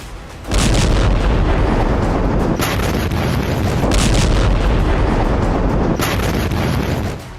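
A loud, sustained blast of roaring noise with repeated heavy bursts, an explosion in Lebanon rumbling on for several seconds.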